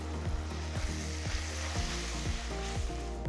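Ginger garlic paste and curry leaves sizzle with golden fried onions in a pan, a steady close frying hiss with rhythmic stirring scrapes and a low hum beneath.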